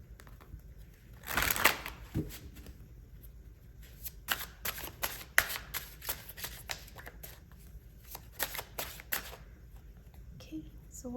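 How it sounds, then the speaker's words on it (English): Tarot cards are shuffled by hand in a run of crisp, riffling bursts and soft flutters that go on for several seconds, close and fairly quiet, with no talk over them. "So let's pull some tarot and see what more comes up."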